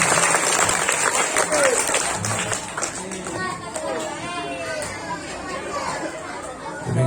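A crowd at a mosque Maulid celebration lecture claps amid loud, busy chatter, with children's voices and murmuring mixing over the applause throughout.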